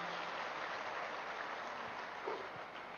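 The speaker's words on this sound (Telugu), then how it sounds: "గట్టిగా చప్పట్లు కొడదాం శేఖర్ సార్కి." An audience at a Tirupati meditation gathering applauding, a steady wash of many hands clapping at a distance, fairly faint and even throughout.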